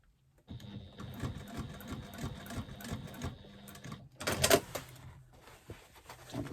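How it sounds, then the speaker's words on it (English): A sewing machine stitches steadily across two fabric seams, a continuous mechanical whir with a brief louder burst near the end, close and alone. "I'm just going to stitch across those 2 seams to make sure that they stay absolutely where they need to be."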